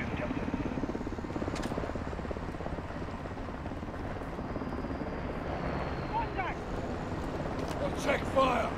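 A military helicopter in the video game Modern Warfare 2 whirs steadily throughout at moderate loudness, mixed with game ambience and occasional voices.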